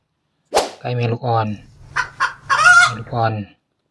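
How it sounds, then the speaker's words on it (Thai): A mother hen clucks in several short, close bursts, with higher chirping notes of her young chicks mixed in between. "ไก่เมลูกอ่อน"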